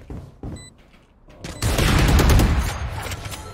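Gunfire in the Valorant shooter game, a few scattered shots and clicks followed by a sustained loud burst of firing and impacts that rolls on for about two seconds, close and dense.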